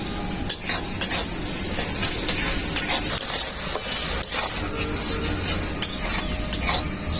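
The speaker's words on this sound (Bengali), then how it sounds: "তেলটাও খুব ভালোভাবে গরম হয়ে গেছে কেটে রাখা পেঁয়াজ দিয়ে দেবো" Chopped onions with salt frying in hot mustard oil in a pan, a loud continuous sizzle with repeated spatula stirring and scraping against the metal, close up and without talk.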